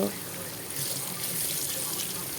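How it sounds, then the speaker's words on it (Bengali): Cut paneer fries in hot oil, a close, continuous bright sizzling hiss that holds steady throughout the short stretch. "এখানে পনির তেলে দেওয়া হয়ে গেল।"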